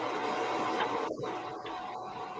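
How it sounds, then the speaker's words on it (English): A robot vacuum docked at its base running its self-cleaning cycle: a steady mechanical whir and hum throughout, with a few brief sharper clicks or bursts partway through, fairly close and continuous. "after my robot vacuum is done cleaning itself"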